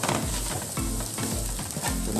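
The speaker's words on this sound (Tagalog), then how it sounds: "Ilagay na po ating chili. Haluin lang natin." Green chili stirred into chicken sisig frying in a pan: a constant loud sizzle and crackle of hot oil, broken by repeated scraping stirs at a regular pace, with no talking.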